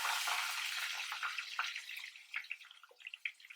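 Curry leaves and green chillies crackle and sizzle in hot oil for a tomato pickle tempering, a dense steady frying hiss that thins into sharper popping spits toward the end, close and alone with no talk.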